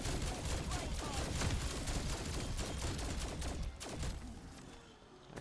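Rapid gunfire in the video game Call of Duty Cold War Zombies mows down zombies on high rounds, a dense, continuous volley of shots that eases off toward the end.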